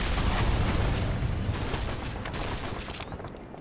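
Gunfire aimed at a tank in Call of Duty: Modern Warfare 3 rattles as a dense, continuous roar of shots and rumbling blasts, loud at first and easing slightly toward the end.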